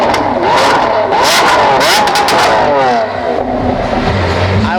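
Bugatti Bolide hypercar engine revving hard as it is driven on a track, a loud, continuous roar with rising and falling pitch sweeps over about five seconds, no talk.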